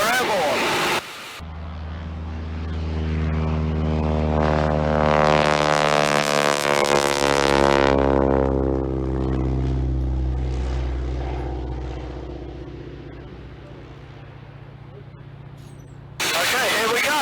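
A warbird propeller plane from a flight simulator game roars through its takeoff, the droning engine pitch climbing and swelling loud before easing off, with brief game sounds at the start and end.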